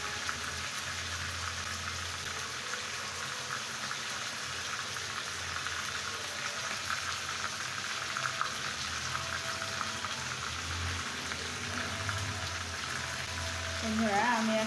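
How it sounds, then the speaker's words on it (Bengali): Chicken pieces fry steadily in a pan for morog polao, a constant close hiss and crackle running evenly throughout, with a slight swell near the end. "আমি আর 2 মিনিট ভেজে নেব"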